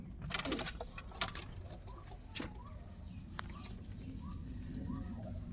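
Pigeons in a seller's loft, with short soft calls and flutters scattered over a steady background murmur of birds and room noise, fairly faint and without speech.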